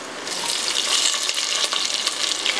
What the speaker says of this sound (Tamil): ஆட் பண்ணிவிட்டு கொஞ்சம் ஃப்ரை ஆகுதுங்க